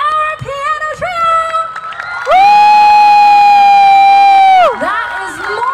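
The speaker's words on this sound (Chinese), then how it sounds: "再一次把我们最热情的掌声给 Our Piano Trio" Loud crowd cheering and whooping for a piano trio, swelling into a sustained high-pitched scream of excited voices before easing off, with scattered shouts and claps around it.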